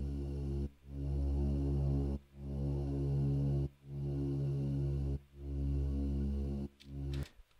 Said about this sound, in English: if you also listen to this pad that I have that's kind of swelling in and out during the pre-chorus,